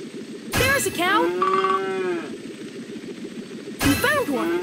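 In a Paw Patrol video game, a cartoon cow lets out one long, clear moo that swells and fades over about a second and a half, framed by short chiming game sound effects and steady background music.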